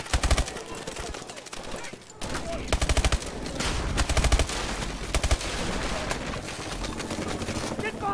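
Rapid turret gunfire in the Call of Duty Advanced Warfare campaign, dense bursts of automatic shots with booming impacts and battle noise layered throughout, loud and continuous.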